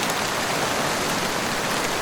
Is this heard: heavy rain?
yes